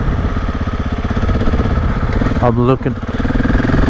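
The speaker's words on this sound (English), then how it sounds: "I'm sure my very loud KTM 690 is enticing them to come out" A loud KTM 690 dual-sport motorcycle engine runs close by on forest trails, a steady pulsing throb throughout, with a brief spoken line over it.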